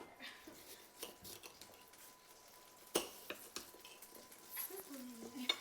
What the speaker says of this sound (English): It's sizzling. We're going to turn that down because that butter, we don't want it to burn.